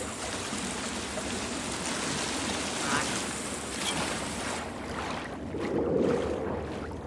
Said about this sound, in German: Jetzt wird's wieder lauter, jetzt kommt Wasser näher.